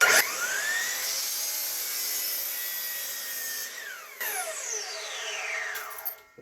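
A saw trimming a fresh end off a piece of firewood being shaped into a keychain baseball bat, heard as a steady high-pitched whining cut that holds for several seconds, then shifts pitch and tapers off, close and with no talk.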